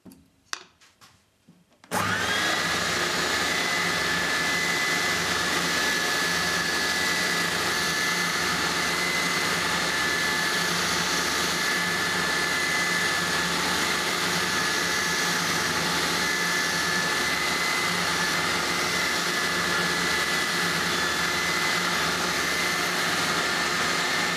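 Cyclone dust collector in a woodworking shop switching on after a moment of quiet, then running as a loud, steady whine and rushing roar that holds unbroken to the end.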